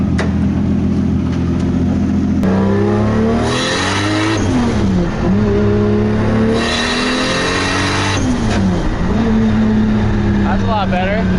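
Turbocharged 1JZ engine in a 240SX drift car revs hard and repeatedly, loud and close, pitch climbing and dropping between blips, with voices talking over the engine.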